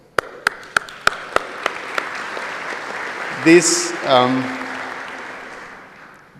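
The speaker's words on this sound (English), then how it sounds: "we deserve a bigger round of applause" IETF plenary audience in Buenos Aires applauding, a sustained wash of clapping under which a few loud isolated claps ring out near the start, with someone speaking over it partway through.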